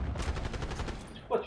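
Rapid automatic gunfire in the Black Ops 6 video game, a dense burst of closely spaced shots that stops abruptly, followed by a short voiced sound.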